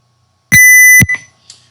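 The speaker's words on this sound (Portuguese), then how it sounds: "Um bip longo e assim começar as minhas temperaturas." A single long, loud electronic beep from an Arduino Mega circuit simulated in Proteus, a steady half-second tone that cuts off abruptly, followed by a short faint blip and near silence.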